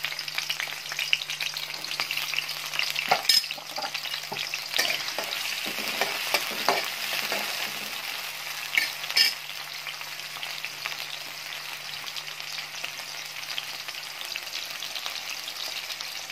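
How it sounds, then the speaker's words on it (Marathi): Onions sizzle and fry steadily in about four spoons of hot oil for a Maharashtrian bhogi vegetable dish (khengat), with occasional stirring scrapes and a low hum underneath. "तेल आपण 4 चमचे वापरणार आहे। त्यामध्ये कांदा टाकून घ्यायचा,"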